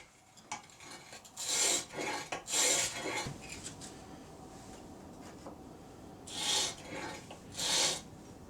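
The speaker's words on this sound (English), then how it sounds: "we're already starting to wear that bevel along there on this 100 grit" A blade bevel is sharpened on 100 grit sandpaper: steady close rasping strokes, several louder back-and-forth passes in two bursts over a constant gritty scraping bed, with no talk.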